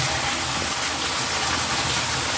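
Water pours down steadily inside a dark cave temple, a loud, continuous broadband rush with no talking over it.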